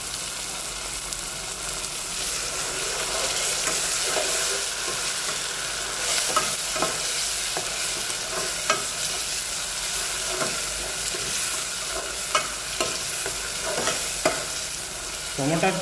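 Canned tomato sizzles and hisses steadily in a hot pan of browning chicken dalcha base, with scattered light clicks of stirring near the end, close and fairly loud with no talk.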